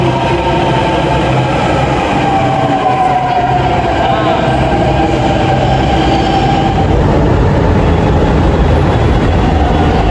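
A metro train rumbles steadily along the track, with a rising whine and constant low roar throughout, close and loud.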